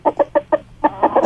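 A rooster gives a quick series of about seven short, sharp clucks, loud and near, with a brief pause midway and no voices over it.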